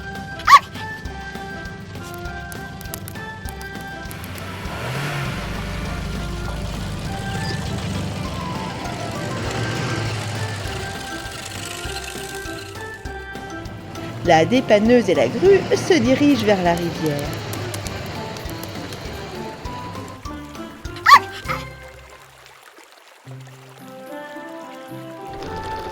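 A small cartoon dog yaps and barks in a few sharp bursts amid music and sound effects, with a narrator talking throughout.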